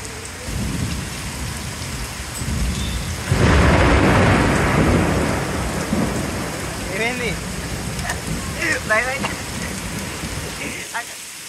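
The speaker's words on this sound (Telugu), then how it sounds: "మొయినాబాద్, శంకర్పల్లి ప్రాంతాల్లో జోరు వాన కురిసింది" Heavy rain pours in the Moinabad and Shankarpally area of Rangareddy district, Telangana, during a thunderstorm, with a loud roll of thunder breaking over the dense steady downpour and faint voices in the background.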